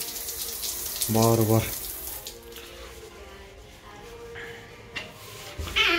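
Water runs from a free shower at a parking-lot rest facility in Italy in brief splashing bursts, heard under a nearby voice speaking.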